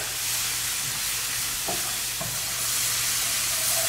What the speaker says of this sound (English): Then I'm going to stir.